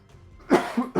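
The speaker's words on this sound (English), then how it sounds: "I'm so sorry about all the coughing." Two or three harsh coughs from a nearby person, a rough burst followed by shorter hacking coughs, heard alone against a quiet background.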